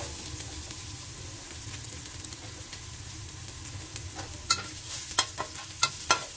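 Garlic frying in a pan at the start of a pinakbet with bagoong: a steady, close sizzle with a few sharp spatula scrapes and clicks near the end.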